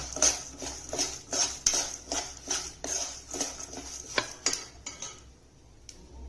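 Peanuts and sesame seeds dry-roasting in a pan, stirred with a utensil that scrapes and clinks against the metal in quick repeated strokes, close and alone, easing off toward the end.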